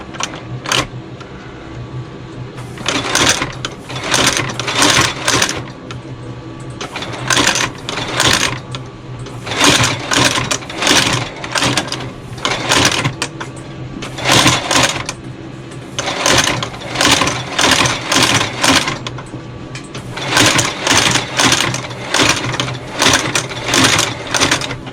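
A sewing machine stitches new Dainite soles onto Frye engineer boots, running in loud, close bursts of rapid rhythmic clatter separated by short pauses, with a low motor hum throughout.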